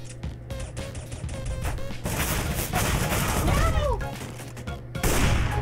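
Gunfire sprayed at a wall in CS:GO, a dense run of rapid cracks and impacts that grows louder midway, with voices talking over the shooting throughout.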